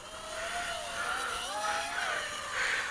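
An Eachine Racer 180 tilt-rotor FPV drone flies fast outdoors over a field, its motors giving a steady high buzzing whine that rises and falls in pitch as it speeds past, fairly close.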